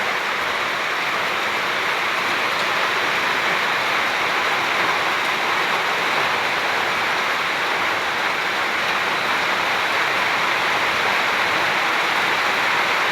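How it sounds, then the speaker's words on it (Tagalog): Heavy rain on its fifth straight day during a low-pressure spell with thunder and lightning pours down as a dense, loud, unbroken roar that holds steady throughout, with no voices. "Pang 5 days na po ang ulan dito sa amin."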